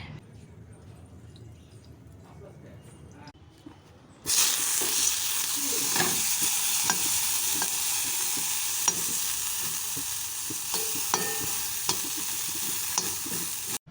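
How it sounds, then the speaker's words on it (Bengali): Quiet kitchen clatter, then a sudden loud sizzle as bitter gourd hits a little hot oil and keeps frying steadily, with occasional stirring scrapes. "আমি করলাগুলো প্রথমে ভেজে নিচ্ছি একটুখানি তেল দিয়ে"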